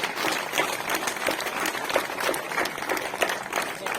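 Audience applause welcoming a speaker at a Kargil Vijay Diwas event in Dalhousie, a lively, continuous round of clapping from a crowd that stays at an even level throughout, with no talk over it.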